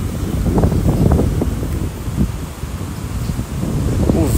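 Strong wind at Cotovelo beach in Natal buffets the microphone in heavy rumbling gusts, loud and uneven throughout.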